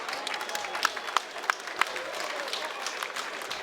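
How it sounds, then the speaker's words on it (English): Ringside crowd at a boxing event claps after a bout, a faint, distant spread of applause with a few sharper individual claps standing out. "a big round of applause for both these men"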